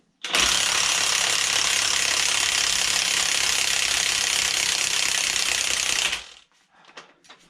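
A ratchet clicks rapidly and continuously for about six seconds, loud and close, as spring compressors are loosened on a front strut of a Citroen C4 Grand Picasso, then stops abruptly, leaving faint workshop sounds.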